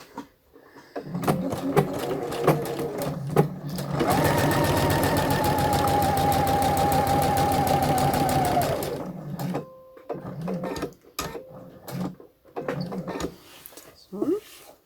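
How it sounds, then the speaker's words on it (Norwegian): A sewing machine stitches a blouse seam in one steady, fast-whirring run of about five seconds. Someone talks before and after it. "da syr vi nede, bort og opp igjen"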